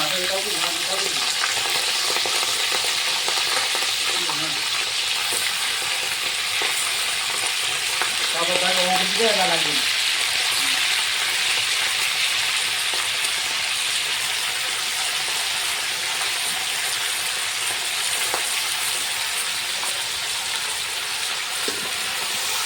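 Pieces of fatty chicken frying in hot oil at an outdoor picnic cook-up, a steady loud sizzle throughout with occasional stirring and brief scraping, and faint voices in the background.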